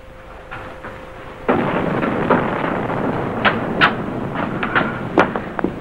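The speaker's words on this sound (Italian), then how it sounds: "Che sono? Cannoni?" Cannon fire in a dramatic film: a sudden heavy boom sets off a sustained low rumble, followed by several sharper distant blasts scattered through the rest of the passage.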